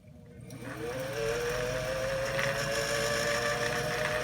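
Singer Style-O-Matic 328J sewing machine winding a bobbin, its motor spinning up from quiet to a steady, continuous whirring hum that holds fairly loud throughout.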